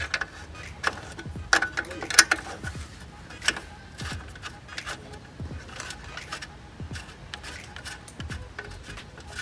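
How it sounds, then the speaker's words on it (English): A 10mm wrench loosening a bolt on a car's air filter housing during an aftermarket intake install, with close metallic ratcheting clicks, scrapes and rubbing in irregular bursts, no talk. "with the 10mm wrench, you need to disassemble the old filter, starting with this bolt"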